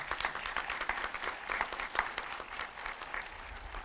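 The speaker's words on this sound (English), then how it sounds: "And I want to take this time to applaud those individuals right now." Graduation audience applauding parents at a high school ceremony, a dense steady wash of many hands clapping throughout, moderately loud and continuous with no talk.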